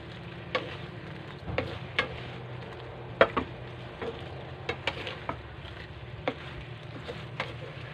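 Shrimp fry in butter, garlic and oyster sauce with a soft, steady sizzle while a utensil stirs, giving scattered light scraping ticks against the pan.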